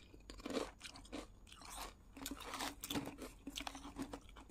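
Lay's sauce-flavored potato chips are bitten and chewed up close, with crisp crunches in irregular bursts and a quieter mouth sound between them.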